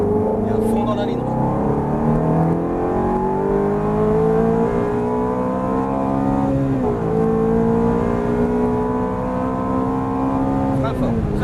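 A Ferrari F430 GT on the Chenevières circuit accelerates hard at full throttle, its engine note climbing steadily through the gears with a brief dip at a shift, loud and close throughout.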